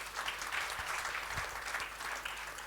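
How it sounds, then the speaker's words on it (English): Quiet, steady audience applause during a live budget discussion panel, a soft continuous patter of clapping from a fairly distant crowd, with no talking over it. "Please give her a round of applause."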